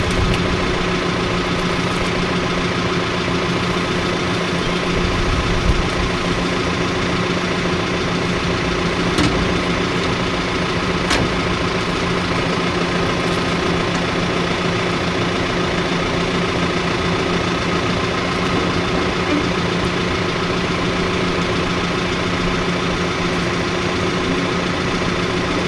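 A borrowed tanker's engine idles steadily and loudly throughout, a constant low rumble with no talking over it.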